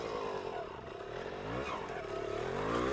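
Vintage Honda MR50 Elsinore small motorcycle engine laboring up a steep grade, a steady close buzzing drone that holds strained and even throughout with a slight rise near the end.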